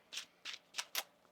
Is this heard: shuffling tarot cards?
yes